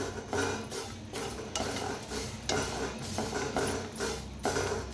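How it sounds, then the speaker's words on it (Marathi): Sesame seeds dry-roasting in a pan are stirred with a utensil, making a continuous rustling scrape with rhythmic sweeps about once a second, close and steady with no talk. "आता ह्याच्यातच भाजायचं तीळ। छान असं भाजून घ्यायचं सुगंध येऊस तर।"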